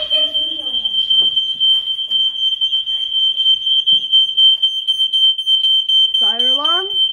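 Smoke detectors shrill in a steady, continuous high-pitched tone throughout a power outage, with a person speaking briefly at the start and again near the end beneath the alarm.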